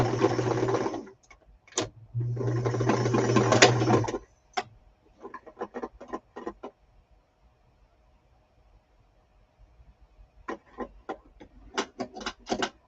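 A sewing machine stitching fabric whirs in two short steady bursts up close, followed by scattered clicks and taps, then a quiet gap and a few more mechanical ticks.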